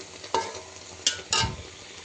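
Hilsa fish cooks in mustard oil in a pan, with a soft sizzle and a few brief, sharp clinks and scrapes of stirring close by.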